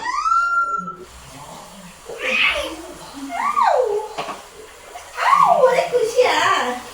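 Water splashes while a baby is bathed, with soft sloshing and running-water hiss beneath an adult talking and a baby's voice.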